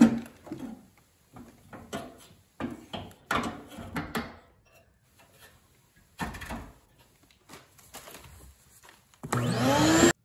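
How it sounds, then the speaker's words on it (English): A shop-vac vacuums out the air inlet of a Harman P68 pellet stove, its motor whirring up in a loud, steady roar near the end after a stretch of scattered clunks and handling noises. "So we use the shop-vac to do that."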